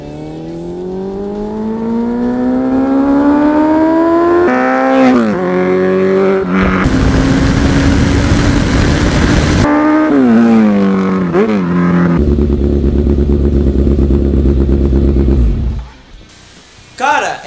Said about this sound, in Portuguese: Não odeio moto barulhenta.